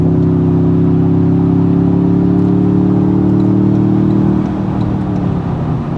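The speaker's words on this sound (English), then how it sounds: "TRD Pro exhaust that you get on this vehicle." Simulated V8 exhaust note played through the speakers of a 2025 Toyota Tundra TRD Pro on a drive. It is a loud, steady engine drone with a smooth humming tone that holds nearly constant before easing slightly near the end.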